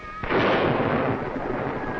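A sudden heavy crack of thunder from lightning breaks into a broad, loud rumble that rolls on steadily, heard alone on an old film soundtrack.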